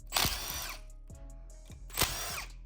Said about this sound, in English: drill a hole on the internal side to help with oil flow